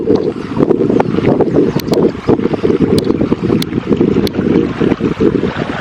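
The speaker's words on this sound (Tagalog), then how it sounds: "Malakas na agos ang tubig." A strong current of stream water rushes steadily in a hidden creek in Sariaya, Quezon, a loud close continuous wash with some wind buffeting on the microphone and no talk.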